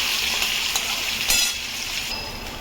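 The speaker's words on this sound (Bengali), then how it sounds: "তো এটা পেঁয়াজটা ভালো করে ভেজে নিয়ে ফিরছি" Onions fry in oil in a pan for chicken kosha, a continuous bright sizzle with a few soft clinks and stirring scrapes near the microphone.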